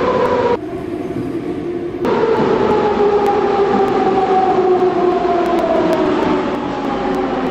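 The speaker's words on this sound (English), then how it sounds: "What I do like are the train sounds, they are very detailed." An Athens metro train runs in a train simulator game between Megaro Musikis and the next station, a loud steady rumble with rising and falling whine tones sustained throughout, with a brief change in texture near the start.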